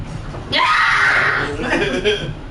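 Dancers in the Dream Daddy video game let out a high, strained scream on stage, rising sharply after a brief low murmur, then trailing into fainter, warbling cries close by.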